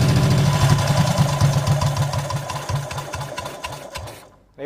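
A BMW Isetta barn-find engine idles steadily up close, a fast, even chugging pulse that sounds rough and sewing-machine-like, loud throughout before cutting out abruptly at the end.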